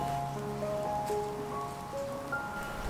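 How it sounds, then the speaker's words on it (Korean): Steady light rain falls in the backyard of a Korean hanok, a soft continuous patter with faint tonal hums in the background and no talking. "빗소리가 아주 듣기 좋습니다."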